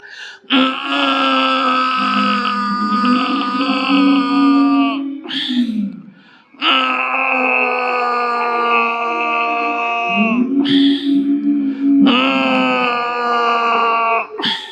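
A group of voices imitates loud snoring during a yoga breathing practice, sustained rasping drones in three long stretches separated by short pauses.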